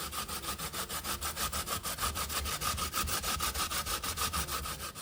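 Sweet potato, cassava and yellow yam being hand-grated, a steady rhythmic rasping of fast back-and-forth strokes, close and continuous with no talk.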